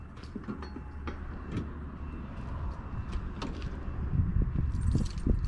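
Keys jangle in short, scattered metallic clinks near a pickup on a farm hauling trip, fairly quiet against a low background rumble, with no talk.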